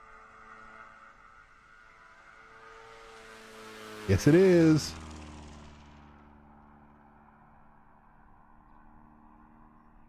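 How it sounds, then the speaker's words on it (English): A plane passes near a wildlife area with giraffes and elephants, a brief loud rumbling swell that rises and fades over a few seconds, with a person speaking briefly and a steady low background hum. "That's your plane, I hear?"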